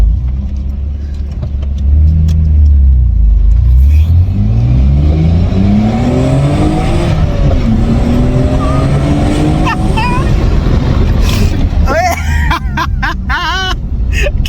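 A Nissan Skyline R32 GTR on a first drive, its engine loud and close, revving up and easing off in rising and falling sweeps, with sharp clicks and rattles near the end.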